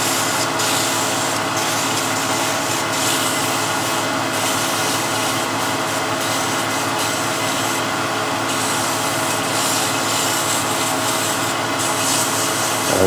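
Sandpaper rubbed back and forth over a wooden ogee moulding, a continuous loud rasping hiss with a steady rhythmic stroke, close up and alone.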